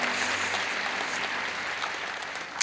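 A church congregation claps steadily, a dense wash of applause that fades slightly toward the end.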